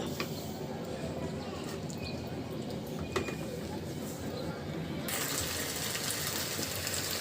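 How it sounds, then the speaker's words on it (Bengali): Hot water poured into a pot of spiced potatoes for beef potato dal makes a steady rushing, splashing flow that swells brighter and fuller partway through. "দিয়ে দিচ্ছি গরম পানি"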